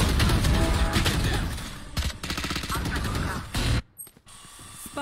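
A spike is planted during a multiplayer shooter game, with a mechanical ratcheting planting sound layered under heavy gunfire and game effects, loud and dense, ending in a brief drop to near silence.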